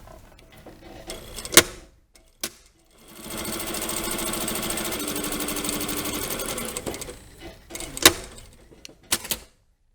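A sewing machine stitches down the lower welt of a double welt (jet) pocket, running in one steady, loud burst of rapid needle strokes for several seconds, framed by sharp handling clicks and thumps before and after.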